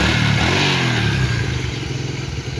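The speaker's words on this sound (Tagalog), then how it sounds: "kita natin, umandar ng maayos yung motor" A Kawasaki Fury 125 motorcycle engine idles close by with a steady, even putter, its magneto reported to be noisy, running alone without talk.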